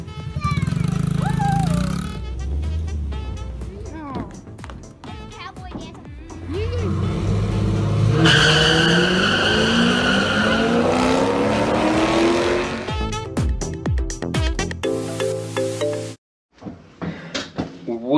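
Dirt bike engine revving and whining as it rides carrying three people, loud and close with rising and falling pitch, mixed with voices and shouting.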